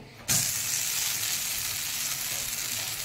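Ghavan, a thin rice crepe, sizzles steadily on a hot pan, a loud, close, continuous frying hiss that starts abruptly and holds without a break.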